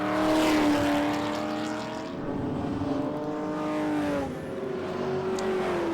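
VK Commodore touring race car driven by Max McLeod at a Winton festival of speed, its engine note rising and falling loudly as it roars past close by, with no voices.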